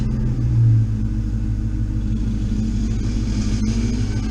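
Truck engine running at a steady low idle as it is shifted into reverse, with a brief swell in the rumble early on and a constant drone throughout.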